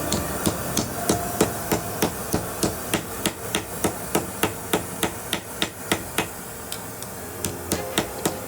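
Heated steel pieces are struck flat with a hammer in a steady, regular rhythm, about two to three sharp metallic blows per second, loud and close, with no talking.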